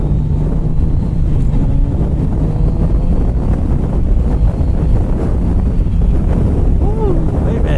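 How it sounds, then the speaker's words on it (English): Strong wind buffets the microphone on a cross-country motorcycle ride near Petrified Forest National Park, a loud continuous low rumble with no letup throughout. "there's a ton of wind today"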